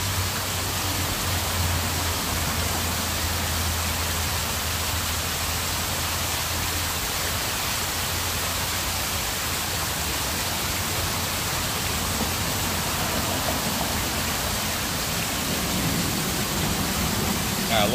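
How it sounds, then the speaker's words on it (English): A waterfall in Las Vegas rushes steadily, a constant, loud broadband roar of falling water that fills the scene without pause for the whole stretch. "Let me know when the waterfall gets annoying."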